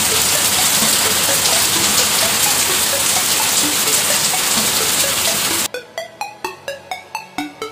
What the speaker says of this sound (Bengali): আর বাইরে কি জোরে বৃষ্টি শুরু হয়েছে তোমরা দেখো।